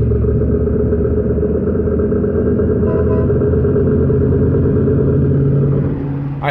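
A car with worn front differential bearings accelerates hard, giving a loud, steady drivetrain drone and rumble with a growing whine throughout, close to the microphone.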